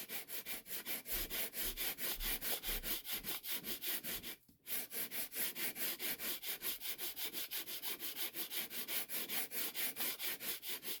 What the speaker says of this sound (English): I'm going to keep sanding here until I can't sand anything else